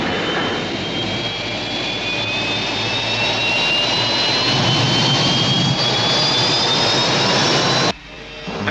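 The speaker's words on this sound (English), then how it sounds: "Rescue ship moving." A rescue spaceship from the 1975 series Space: 1999 flies past in a loud sustained jet-like roar with rising whistling tones, building steadily before cutting off abruptly near the end.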